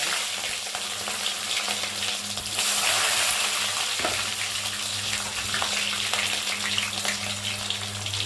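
Cumin, mustard and fennel seeds splutter and crackle in hot oil for a lunch dish, a steady close hiss of frying with scattered pops, a brief surge near the middle and no talking.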